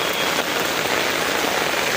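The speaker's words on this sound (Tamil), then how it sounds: "சரியான மழை." Heavy rain pours down steadily onto a road, a dense and constant hiss that stays loud and unbroken from start to finish.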